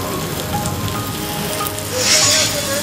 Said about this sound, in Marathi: वादळी वारे सुद्धा सुटलेले होते आणि जोरदार अवकाळी पाऊस आला.